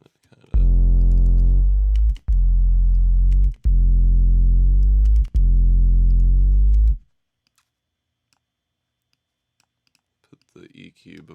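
Heavily distorted guitar chords ring out in four sustained, buzzing blocks separated by sharp breaks, then fall silent before faint noise returns.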